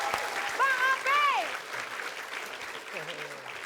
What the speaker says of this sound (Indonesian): Kita kasih tepuk tangan buat Mas Kiwil lagi dan Bang Ope